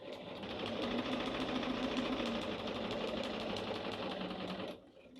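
A sewing machine stitches along a marked quilting line on a dish towel pot holder, giving a steady, close, continuous mechanical whir with a rapid needle rhythm that cuts off just before the end.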